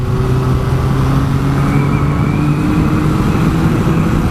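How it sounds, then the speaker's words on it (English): A 1993 Honda CBR900RR Fireblade motorcycle pulls under acceleration, its engine a continuous loud drone that climbs gradually in pitch, with steady wind rush around it. "When you wind her on, takes a little while to pick up compared to modern bikes."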